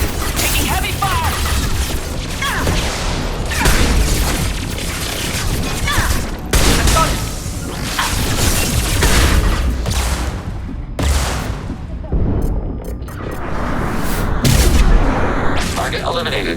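Heavy, sustained gunfire fills a Mass Effect 2 battle on Insanity difficulty: dense overlapping bursts and shots pound continuously at close range, with brief dips between volleys and occasional combat voice callouts mixed in.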